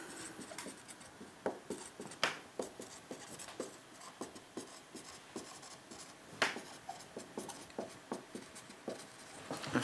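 Pen or chalk writing by hand during a French maths lesson on logarithm limits, a steady run of short scratchy strokes, quiet and close, with no talking over it.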